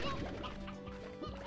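Hen clucking in the video game Slime Rancher, short repeated clucks set among busy game sound effects and music, fairly close and moderately loud.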